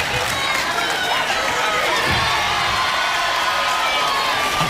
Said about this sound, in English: Mickie James has the support of the Impact Zone crowd